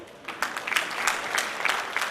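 Scattered light clapping from an audience at a district cabinet installation ceremony, a few hands patting unevenly for about two seconds with no voices over it.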